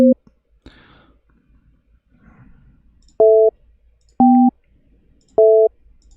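Telephone busy signal after dialing a number through Skype: three loud, evenly spaced two-tone beeps separated by roughly a second of quiet, with faint clicking and a little background noise before them.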